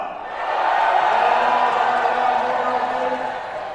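Crowd of supporters at the Reyes Cup pool event cheering and shouting for Team Asia, a sustained loud roar of many voices that swells quickly and holds steady for several seconds.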